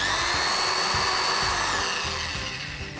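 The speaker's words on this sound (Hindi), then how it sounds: "इस ड्रिल मशीन की आरपीएम स्पीड 2600 है" A heavy-duty 300-watt drill machine runs continuously at 2600 RPM, giving a steady, close, high-pitched motor whine that eases slightly toward the end.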